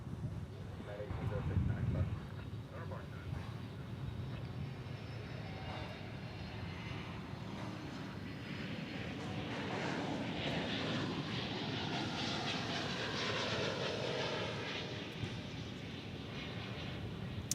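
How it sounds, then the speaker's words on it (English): An Airbus A321neo airliner passes at Dallas/Fort Worth International Airport, producing a steady, broad, rushing jet roar that holds at an even level for the whole stretch and swells slightly toward the end. "A321 Neo."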